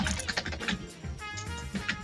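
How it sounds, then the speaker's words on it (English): Close clicking of keys on a computer keyboard during a poker stream, quick irregular taps over a low background hum. "I like typing in the chat"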